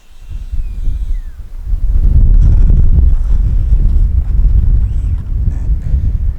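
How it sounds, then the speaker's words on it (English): Strong wind buffets the microphone at an RC plane flying field, a heavy low roar that rises after a couple of seconds and stays steady and loud. "It is still awfully windy though."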